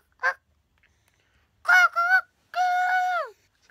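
A person vocally imitating a chicken, a short squawk followed by two loud clucking cries and a longer drawn-out crowing call, close with silence between.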